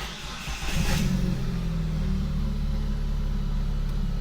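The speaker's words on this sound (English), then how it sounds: "It's going to be the first fire up with the spark plugs." A car engine, fitted with new NGK ruthenium spark plugs, cranks and catches, then settles into a steady, loud rumbling idle close by.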